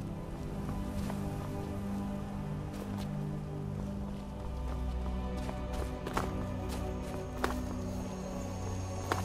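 Horse hooves clop on the ground in the video game Skyrim, a steady run of soft thuds with occasional sharper clicks over a busy game soundscape.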